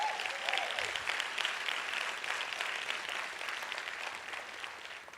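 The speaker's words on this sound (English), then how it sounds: "So please do give a round of applause to all our brilliant artists who were with us tonight." An audience at an international peace lecture applauds the evening's artists with a steady, full round of clapping that continues without a break.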